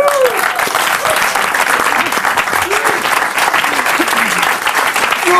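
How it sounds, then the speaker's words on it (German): A studio audience applauds loudly after a comedy set on a German comedy show, dense sustained clapping throughout with a few faint cheers and whoops rising above it. "Applaus, ja."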